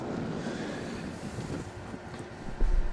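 Wind buffets a microphone outdoors at a pop-up hotel site in Cardiff Bay, a continuous roaring rumble with a heavier gust thump near the end, with no speech.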